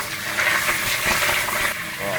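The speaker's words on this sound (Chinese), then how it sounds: "要把肉炸一下" Lamb for Xinjiang hand-pulled rice fries in hot oil with a dense, constant, fairly loud sizzle throughout.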